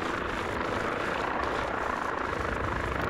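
Helicopter rotor and engine roar in a military tactical video game, a steady, loud, dense wash of chopping rotor noise that holds without change throughout, with no talk over it.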